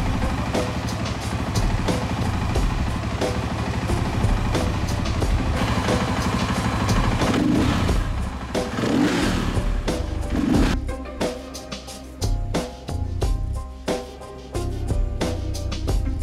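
A KTM dirt bike engine fitted with a Rekluse EXP auto-clutch runs in neutral, holding a steady idle before a series of sharp revs, close and loud, with no talking.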